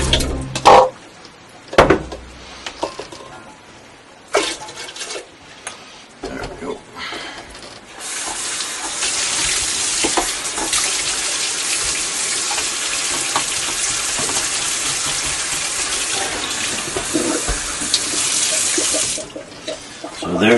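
Homemade hummingbird nectar is poured into feeders, a gurgling liquid stream that runs steadily for several seconds after some clatter and handling noises, with a person talking.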